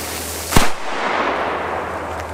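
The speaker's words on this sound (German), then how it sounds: "Wir starten mit dem Donnerschlag." A single Donnerschlag firecracker goes off with one sharp, loud bang, followed by a brief rumbling decay over a steady outdoor background hum.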